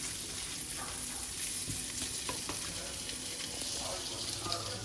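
Barracuda fish frying in butter with sea salt, a steady close crackling sizzle that runs continuously with faint clinks and stirring over it, no talk.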